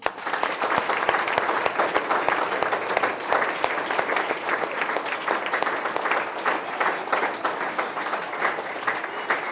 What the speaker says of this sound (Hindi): तो एक बार अब हम सब के लिए तालियां।